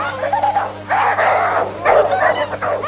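A pitbull barks and yips in short bursts, close and fairly loud, with whimpering tones between the barks over a steady background hum.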